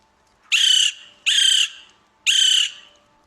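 A recorded call of the West Indian woodpecker plays back three times. The loud, harsh squawking notes are evenly spaced, each about half a second long, with quiet in between.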